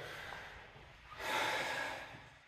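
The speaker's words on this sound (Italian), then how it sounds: "Fammi un bel respirone." A patient takes a deep breath during a chiropractic session, a soft airy inhale swelling midway and easing off over a second or so, close and quiet with no talk.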